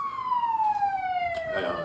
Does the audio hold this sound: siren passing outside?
yes